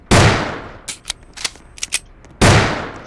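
A fake gun in a video game shooting people: two loud, booming shots with long decaying tails at the start and end, separated by a scatter of quieter, sharp clicks and pops.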